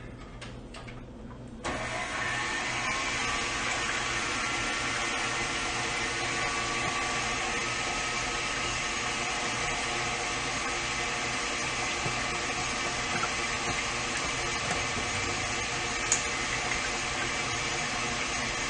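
Electric mixer whipping flourless chocolate torte batter: after a short quiet start the motor switches on and holds a steady, even whirring drone to the end, with no speech.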